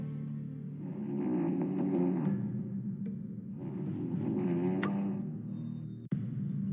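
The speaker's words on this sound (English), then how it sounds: "The General sure can snore." Slow, steady snoring from a sleeping figure called the General, each long rasping breath swelling and fading in a regular rhythm, close and fairly loud, with a single sharp click near the end.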